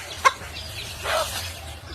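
At a chicken seller's, a sharp squawk is followed by a softer burst of clucking, with a faint steady hum in the background.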